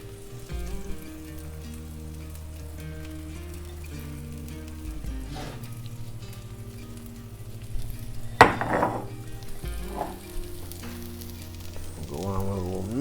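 Quesadilla cheese sizzles on a hot flat top griddle for birria tacos, a steady crackle under a low kitchen hum, with a couple of sharp utensil clacks.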